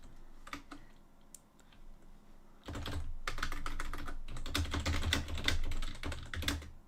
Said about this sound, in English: Do you always beat your keyboard like that?